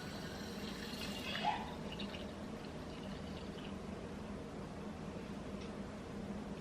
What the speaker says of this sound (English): I am going to pour tap water over into the jar.